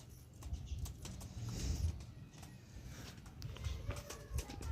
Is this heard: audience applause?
no